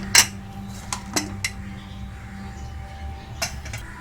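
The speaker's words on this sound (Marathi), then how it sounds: "आपण आता कुकर उघडूया." A metal pressure cooker lid is opened after cooking a Maharashtrian gavar and peas bhaji. There is one sharp clank, then a few lighter metallic clinks and taps close by, with a low kitchen hum underneath.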